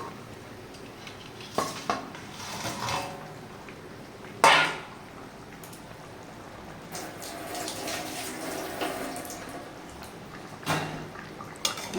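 Pieces of fried bhola fish go one by one into a boiling curry gravy of onion, tomato and mustard paste, with a few splashes and clinks of a pan against the low bubbling.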